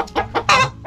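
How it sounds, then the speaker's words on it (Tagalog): A large chicken clucking close by in a few quick, loud bursts, with no one talking. "Malaking manok yan."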